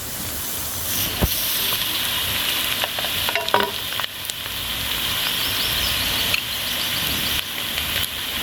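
Onions sauté in a pan with garam masala, green chilli, pepper and cumin for chicken mandi, giving a soft continuous sizzle broken by a few sharp clinks and scraping stirs.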